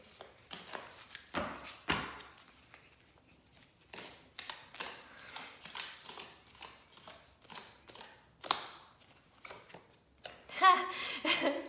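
Tarot cards being shuffled and pulled, a series of quiet papery riffles, slides and taps in uneven bursts, close and soft, with a sharper flurry near the end.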